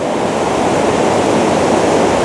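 Cedar Falls waterfall roaring at unusually high flow, a loud, steady broadband rush of pounding water that fills the whole moment without pause or talk.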